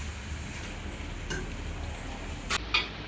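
Tomatoes hit a pan of cumin, coriander and turmeric powder, giving a soft, steady sizzle throughout, with a couple of sharp utensil clinks near the end.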